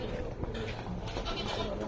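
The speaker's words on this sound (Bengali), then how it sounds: "এই যে এই দেখেন ছাগল" Goats kept at a home farm bleat in a short stretch, mixed into dense background noise while someone talks throughout.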